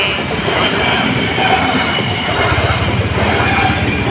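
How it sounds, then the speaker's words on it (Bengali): A train rolls steadily past a level crossing where traffic waits in a jam, its wheels and carriages producing a loud, continuous rumble with a rapid clickety-clack rhythm building toward the end; no one speaks. "ট্রেনটা চলেই যাচ্ছে।"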